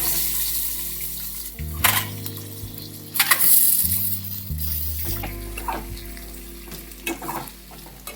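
Eggs frying in hot oil with pepper powder on a home stove give off a steady, loud sizzle. A few sharper crackling bursts and some stirring or scraping sounds break through it, and no one speaks.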